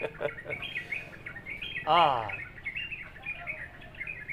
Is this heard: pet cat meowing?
no